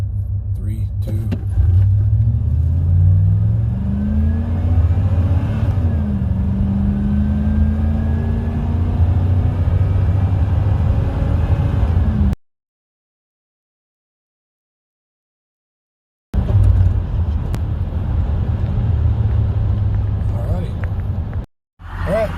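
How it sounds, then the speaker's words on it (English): A 1992 GMC Sierra 1500 pickup accelerates from a stop, engine note climbing through gear changes from inside the cab, steady and fairly loud, broken by a sudden gap of silence before the engine sound returns. "So we're going to do a 0 to 60 real quick."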